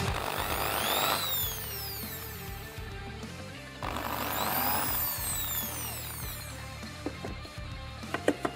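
A power drill bores into a PC case during a case mod, its faint whine rising and falling in two long sweeping bursts, followed by a few sharp clicks near the end.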